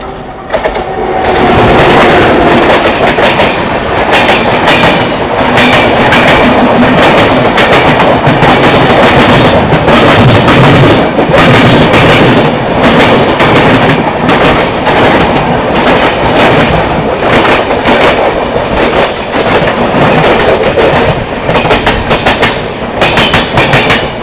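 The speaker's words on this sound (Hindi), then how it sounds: "थोड़ी देर में भाई अपनी ट्रेन पहुँचने वाली है गाजियाबाद" Delhi to Azamgarh passenger train running at speed, loud steady clickety-clack of wheels over rail joints heard from inside the carriage, continuous and rhythmic throughout.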